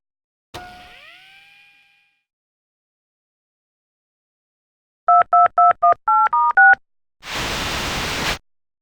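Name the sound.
video phone dialing in Tex Murphy video game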